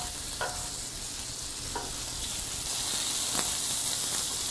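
Pork belly sizzles on a grill during a Korean barbecue meal, a continuous close hissing crackle with a few faint clinks of utensils.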